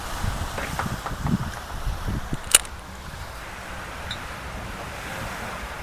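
Surf rolls onto Pattaya beach in Thailand at sunset, a steady wash of waves mixed with wind rumble on the microphone, broken by one brief sharp knock midway.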